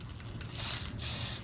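Clear acrylic spray paint hisses from an aerosol can in two short bursts, each about half a second long, close to the microphone with a quiet pause between them.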